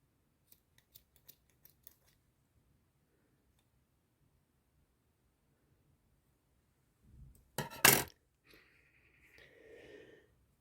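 Large scissors snipping super chunky fluffy yarn during crochet: a couple of faint clicks early, then a close, loud crunching cut near the end followed by rustling.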